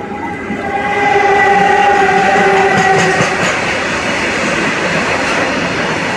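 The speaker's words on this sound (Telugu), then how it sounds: "మన ట్రైన్ వచ్చేసండి 25 నిమిషాలు ఆలస్యంగా అయితే డిపార్ట్ అయిపోతుందండి అత్తిలి నుండి అయితే" A passenger train pulls away from Attili station, with a long, steady rumble of rail cars and wheel clatter. Sustained horn-like tones sound over it during the first few seconds, and no one speaks.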